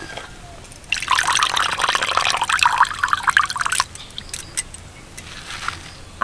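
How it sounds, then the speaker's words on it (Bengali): Water drains and trickles off washed, shredded cabbage into a container for a cabbage chicken dish, a steady splashing pour for a few seconds that then gives way to scattered light drips, with no talking. "জল ছাড়িয়ে একটা পাত্রে রাখছি"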